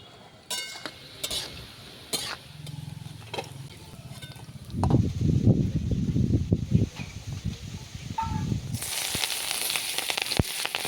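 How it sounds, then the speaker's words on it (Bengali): Chopped vegetables salted and frying in hot oil in a pan, with a steady close sizzle, intermittent spatula stirring and clinks against the pan, the hiss rising louder toward the end. "একে একে সব সবজিগুলো ভালোভাবে ভেজে নেব।"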